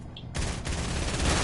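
Hunting rifle fire in a battle video game: after a quiet start, a sudden loud blast bursts in and sustains a dense, roaring burst of gunfire near and heavy to the end.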